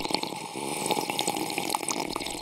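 Bubbling, gurgling liquid effect for a speed potion in a video game, a continuous watery fizz of small pops that stays fairly loud for about two seconds.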